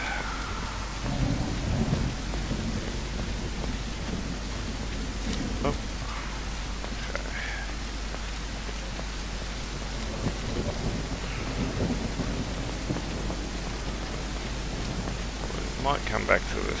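Heavy rain with rolling thunder in a video game thunderstorm, a dense, constant downpour hissing on surfaces while low rumbles swell and fade beneath it, and someone talks over the storm.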